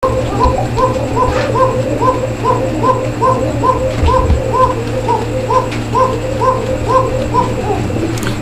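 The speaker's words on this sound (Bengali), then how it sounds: "আপনারা এতক্ষণ ধরে কোকা কবুতরের ডাক শুনলেন" A Koka pigeon coos in a long, loud, rhythmic series of repeated low notes, steady and close, over a constant background hum.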